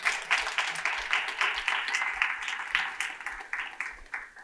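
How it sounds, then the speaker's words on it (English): An audience at a religious reconciliation lecture claps together, a dense, steady patter of many hands filling the room for several seconds without pause. "Do you think we could clap for her?"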